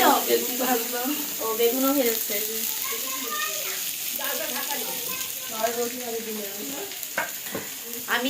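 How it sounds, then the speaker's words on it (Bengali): Chopped onion, green chili, dry red chili and nigella seeds frying in a pan, a steady hissing sizzle with stirring throughout, while a voice talks over it. "পিঁয়াজ কাঁচা লঙ্কা শুকনো লঙ্কা কালো জিরা ফোড়ন দিয়ে এগুলো হচ্ছে ভাজবে"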